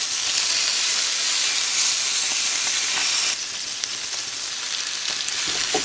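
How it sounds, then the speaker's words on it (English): Strips of buche frying in an oil and lard broth on a discada for street tacos, a loud, dense, continuous sizzle up close that drops slightly in level partway through, with no voices. "Once you chop your buche into strips, you're gonna place it right into that oil broth that we have going on"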